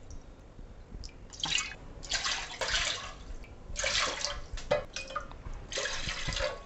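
Water splashes and pours in several short bursts into a pot, measured by the bowlful for sabudana papad, close and fairly quiet, with brief pauses between pours and no talking.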